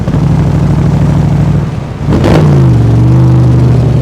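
A 2020 Backdraft Cobra Iconic Edition roadster engine pulls hard and loud from inside the car, with a rising drone. It drops briefly as the driver shifts gears, then climbs again at a lower pitch.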